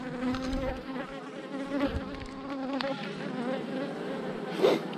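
A young male honeybee, a drone, buzzes loudly and close by with a steady droning whine that swells and wavers for several seconds.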